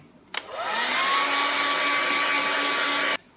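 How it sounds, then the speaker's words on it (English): A hair dryer switches on with a click and blows loudly and steadily with a constant whine for about three seconds before cutting off. "So I'll grab my trusty hairdryer"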